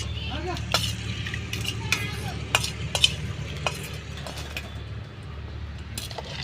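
A spoon stirs buttermilk curry in a pot, with scraping and occasional metallic clinks against the pot over a low simmering hiss, while a person talks nearby.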